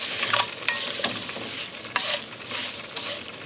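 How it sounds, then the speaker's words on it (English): Rice cooks for étouffée in a hot pot, giving a steady crackling sizzle broken by several louder scraping strokes as it is stirred, heard close and alone. "let's stir our rice"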